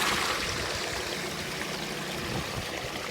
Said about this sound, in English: all this water is draining in this one fairly well.